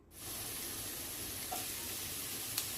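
Onions and yardlong beans fry in a pan while being stirred with a wooden stick, a faint, steady sizzling hiss with a few small taps and scrapes near the end.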